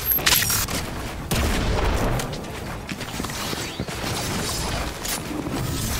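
Rapid bursts of gunfire from the Fortnite video game crack and boom in quick succession, with occasional mechanical clatter between volleys and no talking.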